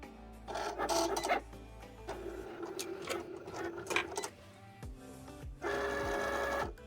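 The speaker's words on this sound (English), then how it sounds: "we're just going to go to our Cricut, load up our machine" A Cricut cutting machine slices vinyl, giving whirring motor runs and scraping blade passes in several bursts, with a short pause between strokes and a steady hum near the end, close and fairly quiet.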